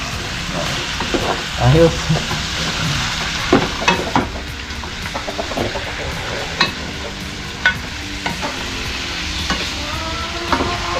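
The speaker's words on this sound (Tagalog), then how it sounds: "Gisa-gisa muna natin para mawala yung lansa." Native chicken sautéing in a pan for tinola, a steady frying sizzle with repeated scrapes and clatters of stirring, a voice speaking briefly over it.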